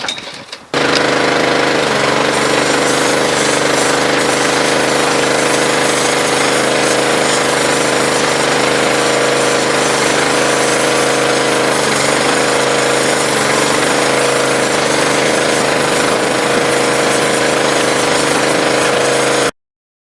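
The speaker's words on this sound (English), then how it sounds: "The power washer." A power washer blasts bark off a chunk of burl wood log, kicking in after a second and then roaring loud and unbroken at close range, a harsh engine drone mixed with hissing spray.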